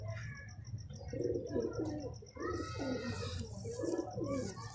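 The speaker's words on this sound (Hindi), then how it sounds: "ये बाज़ार से ख़रीदी हुई कबूतरी है, 250 रुपये की" A market-bought pigeon coos in soft repeated rounds, close and steady over a constant background hum, with a faint chirp now and then and no clear talking.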